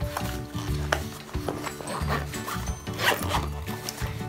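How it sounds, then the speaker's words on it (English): Zipper being drawn along a pocket of a JuJuBe Mini Helix bag in a Hello Sanrio Sweets print, a series of close, scratchy rasping strokes with small handling rustles in between, no voices. "Then on this pocket, it's a zipper here and it goes all the way down."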